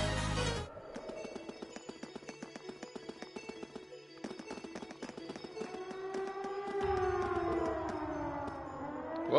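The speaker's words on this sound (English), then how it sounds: "Sounds like a siren. Seems to be coming from the fort." A wailing siren sounds from a fort in the Trails of Cold Steel video game, rising and sustained over the game's music and sound effects, moderately loud.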